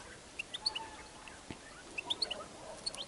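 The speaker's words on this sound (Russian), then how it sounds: "Слышно, да, там гуси, собаки." Distant geese call in short, scattered honks and chirps over a quiet outdoor background, faint and intermittent.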